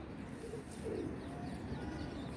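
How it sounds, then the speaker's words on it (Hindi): A Rampuri pigeon coos close by in soft, low, throaty bursts against a steady hiss of background noise, with faint bird chirps higher up. "ये है जी बाबा जी का रामपुरी कबूतर"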